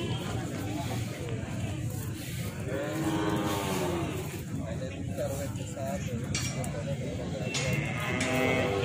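Cattle low with long, drawn-out moos at a busy livestock market selling young feeder cattle, heard over steady crowd bustle, faint clinks and people talking nearby.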